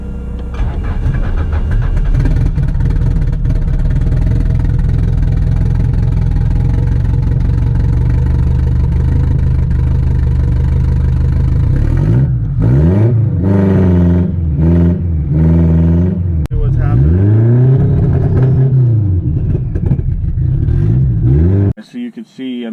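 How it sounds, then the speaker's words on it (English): A turbocharged H22-swapped Honda Civic running rough on a base ECU map, its engine droning loud and close throughout with uneven surges, while someone talks over it. "the car is probably going to run a little rough."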